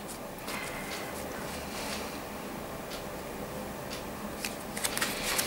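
Tarot cards are shuffled by hand, making a soft, continuous riffling and flicking patter close by, with a few sharper snaps near the end.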